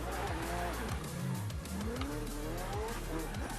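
A GB Mini in Forza Horizon 4 drives in reverse, its engine whining steadily as tires squeal intermittently, fairly close and continuous throughout.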